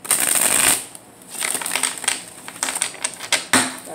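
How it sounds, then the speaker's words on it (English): Tarot cards being shuffled nearby: a loud riffling burst, a pause, then a run of quicker rattling shuffles and soft snaps. "Let's get one more shuffle."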